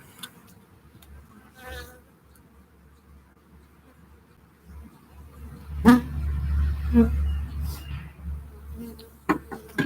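Honeybees buzzing while a hive is installed, a low faint hum running under the sound of handling, with a few louder knocks and rustles later on.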